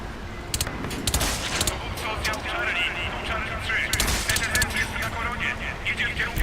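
Gunfire in the Crysis 3 shooter game: rapid bursts and single shots crackle across the scene, with a voice talking over the combat throughout.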